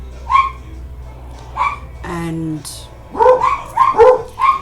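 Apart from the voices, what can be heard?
dogs barking in the background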